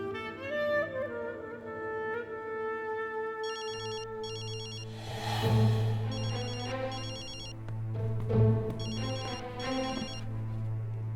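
A telephone rings repeatedly in a drama scene, bursts of electronic ringing over a sustained tonal music score, several rings spaced a couple of seconds apart, moderately loud.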